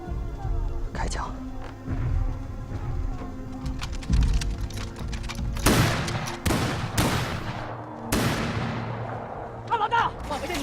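Gunfire in a Chinese war film battle scene, with loud bursts of shots and sharp cracks repeating in irregular volleys over a rumbling din, and voices shouting beneath.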